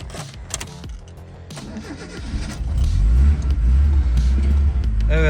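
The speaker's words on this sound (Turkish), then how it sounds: "gördüğünüz gibi araba tek marşta çalıştı" A car starting on the first crank after its battery terminals were cleaned of oxide: a few clicks and a short starter whir, then the engine catches and settles into a loud, steady, close idle.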